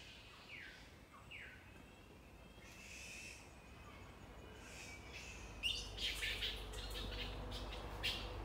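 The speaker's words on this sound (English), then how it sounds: "That must be a bird." A wild bird on Magnetic Island gives faint, distant calls in a noisy outdoor setting, a few short rising notes early on, then brighter chirps and trills later over steady background hiss.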